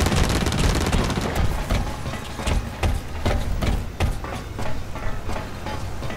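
Loud, rapid gunfire from the shooter game BlackLight Retribution, with dense overlapping bursts of shots that keep going almost without a break.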